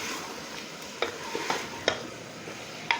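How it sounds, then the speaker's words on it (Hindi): Mutton sizzles steadily as it is stir-fried in a pan, with a soft frying hiss broken by sharp scraping clicks from the stirring. "हमने थोड़ा सा इसे भूनना है मटन का कलर चेंज होने तक।"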